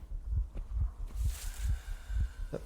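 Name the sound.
pounding heartbeat, from video game Metro Exodus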